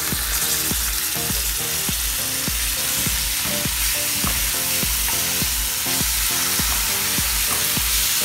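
Boiled minced meat with chili, salt and black pepper frying in a pan, a loud constant sizzle with regular stirring scrapes roughly every half second, close up and with no voices.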